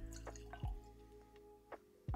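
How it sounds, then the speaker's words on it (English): Small splashes of water dripped into a glass of Nikka Coffey Grain Japanese whisky, three or four quiet, close drops at irregular intervals in a hushed room. "let's add a little bit of water"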